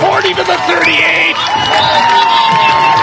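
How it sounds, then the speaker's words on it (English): Football crowd roaring and cheering after a long Thunderhawks run, a broad wash of stadium noise with shouts under a broadcaster's excited commentary. "That'll bring the crowd to its feet."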